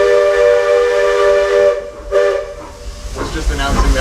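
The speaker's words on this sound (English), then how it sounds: "the final two whistles you heard were the arrival whistles" A loud steam whistle on the Walt Disney World Railroad sounds twice as arrival whistles, one sustained blast then a short one, followed by hissing steam and rumbling train noise.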